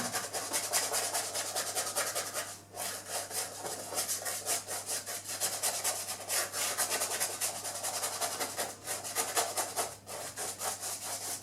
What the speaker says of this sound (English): Then I scrape it down as usual.